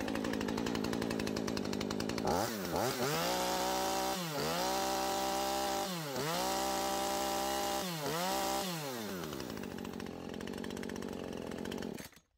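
Husqvarna 135 Mark 2 chainsaw, a 1.6 kW two-stroke saw, revving up and down in several loud, close bursts between idle, then settling back before cutting off.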